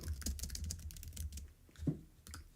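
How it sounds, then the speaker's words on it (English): Rapid, close clicking of a computer keyboard as a poll is typed, a dense run of keystrokes that slows to scattered taps with one heavier press, no talking. "Typing it now."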